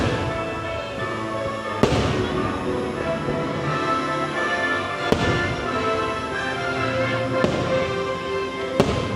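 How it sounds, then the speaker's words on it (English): Fireworks boom over Disney World during Mickey's Very Merry Christmas Party, with several sharp loud bursts echoing across the park and a continuous crackling rumble between them. "fireworks are just starting"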